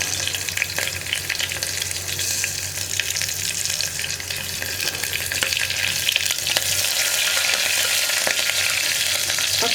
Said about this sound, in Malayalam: ഇനി നമുക്കിതിലേക്ക് പച്ചമുളക് ചേർത്ത് കൊടുക്കാം.